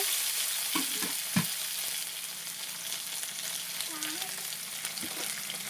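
Potato pieces fry in oil left over from frying fish, giving a continuous close sizzle with a few sharp knocks of a spatula against the pan early on.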